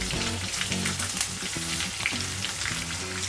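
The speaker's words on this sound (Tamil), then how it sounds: "இதெல்லாம் சேர்த்து ஒரு 2 நிமிஷம் நம்ம தாளிச்சிக்கலாம்" Cumin, black pepper, curry leaves, green chilli, asafoetida and cashews sizzle steadily in hot oil, a dense continuous crackle close by with faint stirring and a low hum underneath, no voices.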